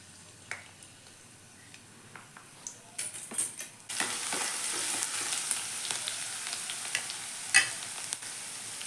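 Crushed garlic drops into hot oil and bursts into a loud, steady sizzle that carries on close up, following a few quiet clicks and taps.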